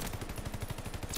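A BAR rifle fires in a video game in one rapid, continuous burst of about a dozen evenly spaced shots, loud and close.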